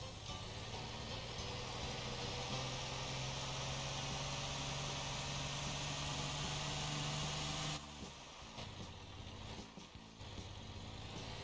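A car engine in the Motor Town video game drones steadily under an automatic gearbox while climbing a hill, then drops in pitch abruptly and becomes rougher and more uneven, close and continuous with no talk.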